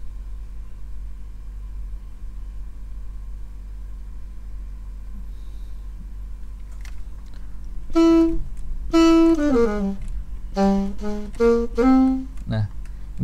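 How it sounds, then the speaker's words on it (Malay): A Yamaha YDS-120 digital saxophone plays a software saxophone sound. After several seconds of near silence with a low hum, a short run of clear reedy notes starts and climbs and falls in pitch. "sekarang gue mau coba pakai suara saxophone."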